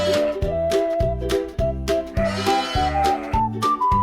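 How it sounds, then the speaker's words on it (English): A sheep gives one wavering bleat partway through a short stretch of bouncy, steadily pulsing farmyard music. "Who says ba?"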